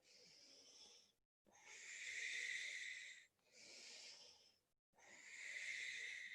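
Slow, audible yoga breaths during a hatha session, long airy exhales and inhales alternating in a steady rhythm with brief pauses between, close to the microphone and with no talking.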